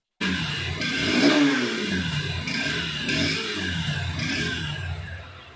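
A Honda Hornet 2.0 motorcycle fitted with a short stubby exhaust muffler runs steadily, its engine and exhaust note rising and easing in gentle swells, close and fairly loud, with no talking over it.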